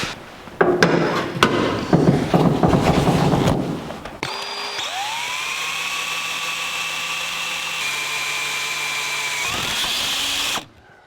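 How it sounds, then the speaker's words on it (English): A power drill bores an 1/8 inch hole through a steering column bolt on a 1982 Jeep CJ7, first grinding roughly, then whining at a steady high pitch for several seconds before spinning down. "With an 1/8 inch hole drilled all the way through the bolt, we can step up to a larger bit."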